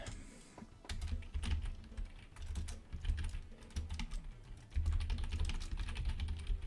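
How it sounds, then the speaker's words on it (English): Keys clatter on a computer keyboard in bursts of quick typing with short pauses, close and fairly quiet, with no talk. "I'll just type it in."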